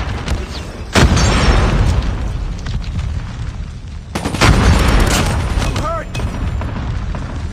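Call of Duty Mobile gunfire, two heavy booming bursts of shots rolling into rumbling echoes, with game voices heard faintly between them.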